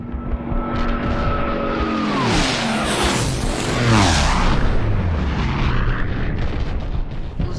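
German anti-aircraft flak guns fire as a film sound effect: a descending aircraft drone gives way to heavy booming bursts and rumbling blasts, loud and close, with no talk.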